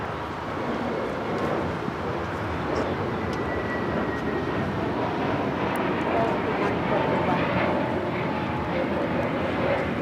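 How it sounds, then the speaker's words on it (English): A Spirit Airlines Airbus A321neo takes off at LAX, its engines giving a strong, steady roar that holds loud for the whole stretch, with voices talking faintly underneath. "This is Spirit Airlines 110 taking off to Salt Lake City on the A321neo."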